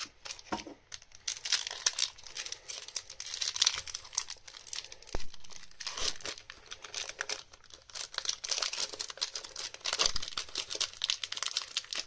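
A Pokémon TCG Evolving Skies booster pack being torn open, a continuous close-up crinkle and rip of foil wrapper lasting several seconds, with no speech.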